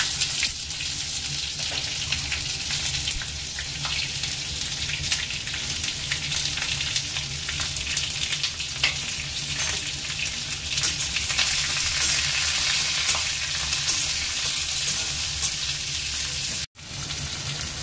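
Chopped onions fry in hot oil with mustard seeds and curry leaves for meen moilee, making a loud, continuous sizzle with occasional stirring scrapes, briefly cutting out near the end, no voices.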